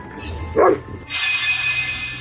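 A single short bark from an unusually large black dog, loud and close, followed by a sudden burst of steady broadband hiss.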